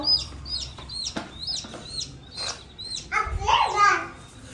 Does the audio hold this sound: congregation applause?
no